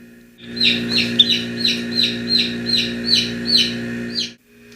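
A newly hatched chick peeps repeatedly in a steady, high-pitched series, close by, over a low constant hum; it hatched from a fertilized egg kept at room temperature during a heatwave.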